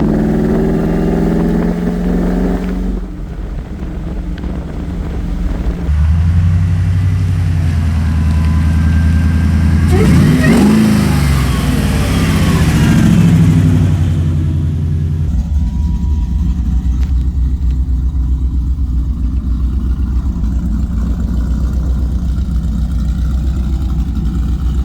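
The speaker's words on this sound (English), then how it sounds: "This thing is a burnout machine" A Ford SVT Lightning pickup truck idles with a deep rumble, then revs hard into a roaring burnout with a rising whine and tire noise, before settling back to a loud, close idle.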